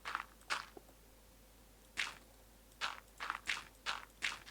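Footsteps crunch over gravel along a path in a video game mine, a few quick steps then a steady run of six or so crisp crunches, near and fairly clear with no talking.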